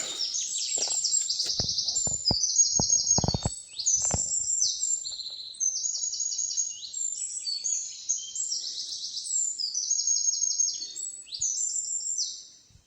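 A bird sings continuously in bright, high warbling phrases, joined early on by a few low knocks and rustles nearby.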